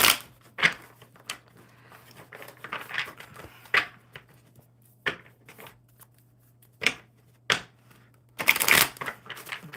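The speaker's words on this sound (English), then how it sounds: "One more good shuffle for you." Playing cards are shuffled close up: repeated riffling bursts and soft snapping flutters at irregular intervals, ending in a longer, louder riffle, with no clear talk over them.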